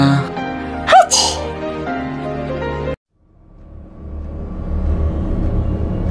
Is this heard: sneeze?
yes